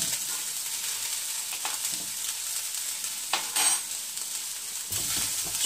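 Spicy mushroom fried rice sautéing in a hot pan, a soft steady sizzle broken by scraping stirs and a few clinks of a spatula against the pan.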